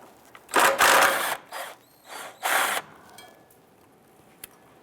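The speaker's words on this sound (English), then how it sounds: "Let's go ahead and remove the 2 bolts on the passenger side here now." Bolts come out of the radiator support tie bar on a 2005-2010 Chrysler 300 under a power ratchet, giving several short bursts of buzzing rattle, close and loud, with brief pauses between them.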